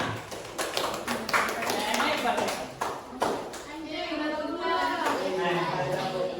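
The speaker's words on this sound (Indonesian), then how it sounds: "tepuk tangan dulu" Scattered hand claps and taps from a small group of students in a physics classroom, uneven and brief, with a voice talking over and after them.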